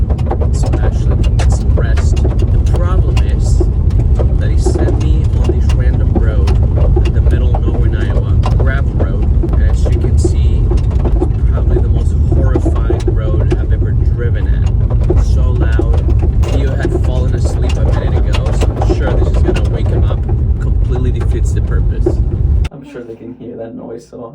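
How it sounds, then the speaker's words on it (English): A car driving along, heard from inside as a loud, continuous engine and road drone with wind rush for most of the time, dropping abruptly near the end. "So I went on a little drive so that Theo can get a nice nap."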